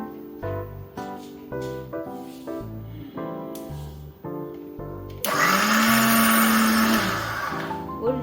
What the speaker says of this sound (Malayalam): നമ്മൾ ഈ മിക്സിയിലിട്ടൊന്ന് കലക്കി എടുക്കുക.